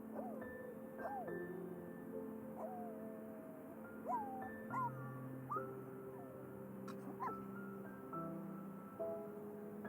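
Dog whimpering in The Sims 4, a series of soft, high, rising whines and yips repeated every second or so over a quiet game music bed.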